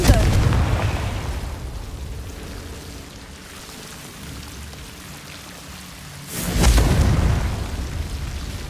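Fiery spell explosion in the Hogwarts Legacy video game, a loud broadband burst about two-thirds through, following an opening rumble and a quieter stretch of game ambience.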